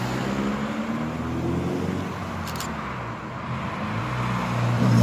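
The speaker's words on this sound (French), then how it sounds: "La Mustang qui passe" A Ford Mustang rolls by on a town street in Thionville, a steady, fairly loud engine and tyre rumble that swells slightly toward the end, with no talking.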